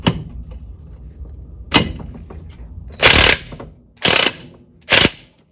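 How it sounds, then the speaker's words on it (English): A Craftsman impact wrench works loose the shift shaft on a boat outdrive lower unit: after a few clicks, three loud, close hammering bursts about a second apart, each lasting roughly a third of a second. "Plan B, I'm using my Craftsman impact wrench"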